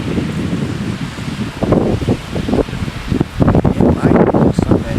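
Gusting wind during a severe storm with tornadic rotation roars in broadband bursts, swelling strongly around the middle and again toward the end, with faint voices mixed into the rush.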